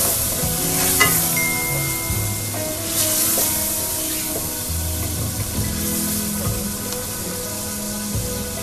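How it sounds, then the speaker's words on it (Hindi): Onion paste and green chilli paste fry in a pan for a white chicken karahi, a loud, dense sizzle running throughout with stirring scrapes and a few brief surges, no one speaking. "अब हम इसको अच्छे से भूनेंगे।"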